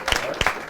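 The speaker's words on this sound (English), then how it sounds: "So a round of applause, if you would, please, for that." Audience applause at a community show, a brief close burst of clapping from a small crowd, dense and fairly loud for under a second.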